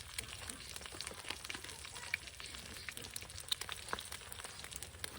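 Eggs frying in a pan on a Trangia 25 camping stove, a soft, steady sizzle with faint crackles and pops throughout, fairly quiet and close.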